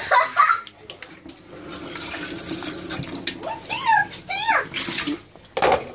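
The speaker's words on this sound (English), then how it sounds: "Wait, you're putting hot water." Hot water runs and splashes from a tap into a container in a kitchen, a gushing flow that rises and falls while children chatter nearby.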